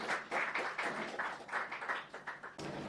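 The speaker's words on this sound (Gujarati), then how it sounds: "એમના માટે જોરદાર તાળી પાડજો પ્લીઝ" An audience applauds a guest speaker at a book talk show with sustained, even clapping that stops near the end.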